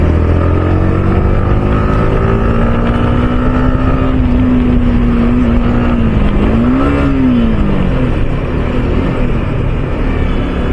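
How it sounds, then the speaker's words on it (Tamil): A steady motorcycle engine drone with a rising and falling pitch, loud and continuous, with wind rushing over it while riding in traffic. "எக்ஸாஸ்ட் சவுண்டு மாற்றாமலே இப்படி சவுண்டு வருது."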